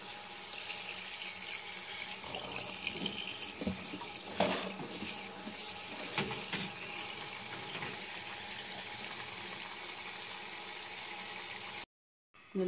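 Boiled pasta being rinsed under a running kitchen tap, a steady close splashing rush of water with occasional clatters, continuing alone until it cuts off near the end.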